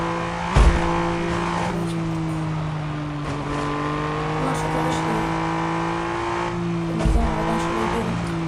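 A video game car drives along with a steady engine drone that shifts pitch as it accelerates, punctuated by two brief thumps, heard continuously beneath a person talking.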